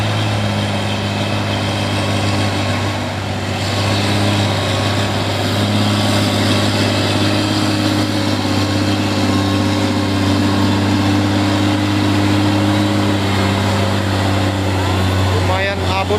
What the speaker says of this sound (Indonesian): Ada trailer Hino bermuatan besi ini